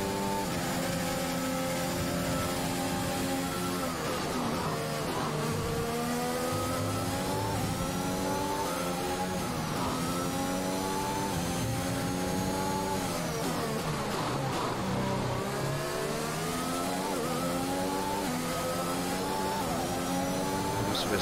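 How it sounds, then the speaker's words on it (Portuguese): A Formula 1 car engine in the video game F1 2021, at the Australian circuit, roars continuously, its pitch climbing and dropping repeatedly through gear shifts, loud and close with no pauses. "O motor tá falando alto."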